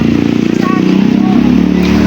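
A motorcycle ride home with a steady engine drone and road rumble running throughout, close and fairly loud, with a voice talking over it.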